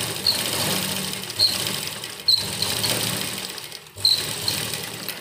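A sewing machine runs steadily while double-stitching the seams of a homemade cloth face mask. It makes a continuous mechanical whir with brief pauses and restarts, at close range.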